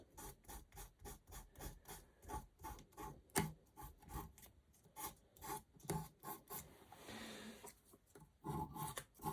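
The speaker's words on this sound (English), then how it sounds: "I've got some O grade sandpaper. That should just bring these up." Fine O grade sandpaper is rubbed back and forth on a small part of a 1940s Taylor 150A output power meter, producing a rhythmic, close rasping of evenly spaced quiet strokes with a brief pause near the end.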